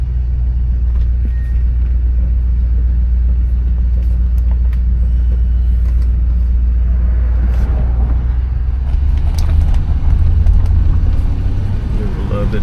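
A 1967 Cadillac Deville's engine rumbles steadily and close while the car drives, a deep low drone that swells slightly near the end, with someone talking over it.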